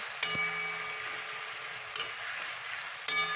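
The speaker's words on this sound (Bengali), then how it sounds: "পেঁয়াজগুলো আমি তেলের মধ্যে দিয়ে দেবো কিছুক্ষণ পেঁয়াজগুলো আমি একটু কষিয়ে নেব তেলের মধ্যে" Onions fry in hot oil for a Bengali doi katla fish curry, a steady close sizzle with a few sharp scraping stirs of the spoon against the pan.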